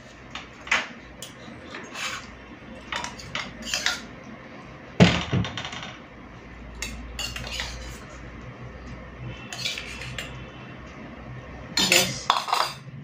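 Spoons and utensils clink and scrape against plates and pots as rice, mourala fish curry with eggplant, and ground kharkol leaf paste are served, with irregular close metallic knocks and a few louder clatters.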